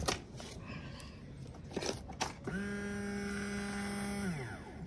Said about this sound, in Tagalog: Pero malakas naman yung ugong ng kanyang motor.